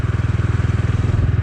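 A Bajaj Dominar 250 motorcycle running after a shift into fourth gear, its engine giving a close, steady, low thumping pulse with no talk over it.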